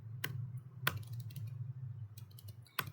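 Keys clicking on a computer keyboard as a command is typed into a prompt, a few sharp separate clacks and quieter taps spread out over a low steady hum, close and faint.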